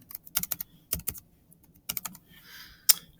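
Typing on a computer keyboard in a quiet room: a few short bursts of quick, close key clicks separated by pauses, ending with one louder keystroke.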